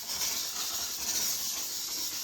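A handheld steam cleaner jets steam onto a toilet, giving a steady, close, unbroken hiss that lasts about two seconds with no talking.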